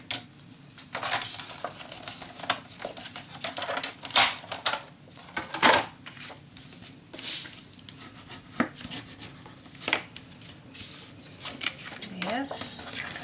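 Scissors snip and paper rustles and scrapes while paper is cut for a Halloween scrapbook mini album, the sharp cuts coming irregularly, with a person talking at times.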